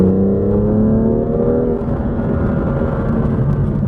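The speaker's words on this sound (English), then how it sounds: "I'm going to downshift into 3rd and listen for, actually I'll just tell you when it actually does" A BMW M2 engine drops into third gear on a paddle downshift, a steady loud close drone with harmonic lines sliding downward partway through, then a rougher lower rumble settling in.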